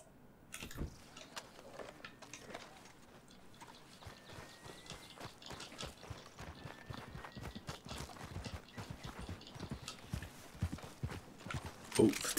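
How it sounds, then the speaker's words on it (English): Horse hooves clip-clop steadily at close range in the open-world game Red Dead Redemption 2, a continuous walking or trotting rhythm of sharp knocks that builds slightly louder toward the end, with voices talking over it. "Oh, God, that's my horse."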